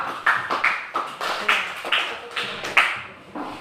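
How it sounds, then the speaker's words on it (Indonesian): A small group of students in a classroom claps for a presenting group, a sparse, uneven patter of hands with distinct individual claps rather than a full ovation, fairly quiet in the room. "Kita beri tepuk tangan untuk kelompok 2"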